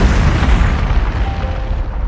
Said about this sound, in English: That thing just exploded the entire arena.